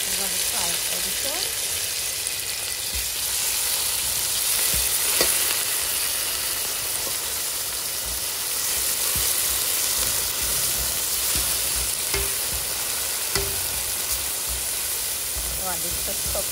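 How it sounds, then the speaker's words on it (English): Garlic and tomato fry in a pan with a loud, continuous hissing sizzle, and faint stirring knocks come through now and then. "We're going to fry it a little."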